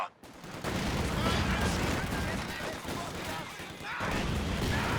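Machine gun fire in Company of Heroes 2 rattles in sustained bursts amid a dense battle din, with a voice talking over it.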